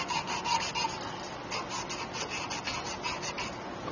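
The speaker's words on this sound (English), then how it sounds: "you want to make sure you sand these really good with sandcloth" Sandcloth rubs briskly back and forth on copper refrigeration pipe before brazing, a close, steady rasping scrape with regular rhythmic strokes and no talking.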